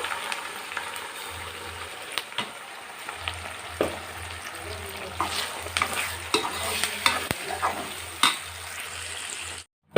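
Ground spice paste with curry leaves sizzling in hot oil for a fish curry, a steady crackle broken by repeated scraping and knocking of a spoon against the pan, ending abruptly near the close.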